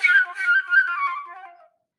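Flute played with an extended technique, air fluctuating very fast up and down, heard as a soft, airy wavering tone for about a second and a half before cutting off.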